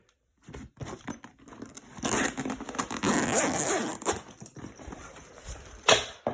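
Zipper on the main front pocket of a medical bag being pulled open, a rasping run that builds into a longer steady drag with crinkling handling noise, close and fairly quiet, no talk.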